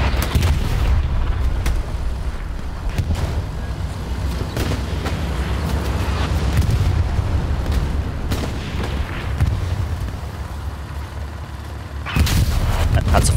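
Sherman and Panzer IV tanks trade fire in a video game battle, with heavy booming cannon shots and rumbling explosions repeating over a dense, loud battlefield din.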